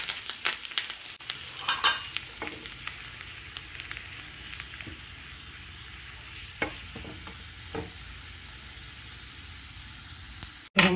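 Curry leaves, cumin, dried chilli and garlic sizzle in hot oil as a tempering for a cucumber and tomato pachadi, with a steady crackling hiss broken by sharp pops and spits, and a louder burst right at the end.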